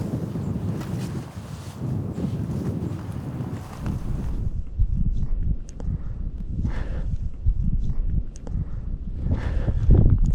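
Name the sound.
wind blowing outdoors on a hillside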